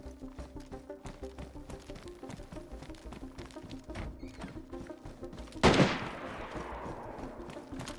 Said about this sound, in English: He might be shooting at Michael.